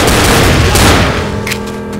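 Gunfire in the Left 4 Dead zombie shooter, Death Toll campaign in the drains: loud, dense booming shots fill the whole clip, easing off near the end.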